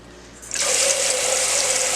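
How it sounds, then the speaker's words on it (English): A kitchen sink tap turned on at about half a second, then water running steadily and filling the basin, a loud, close, even gush with no talking. "I'm turning the water on"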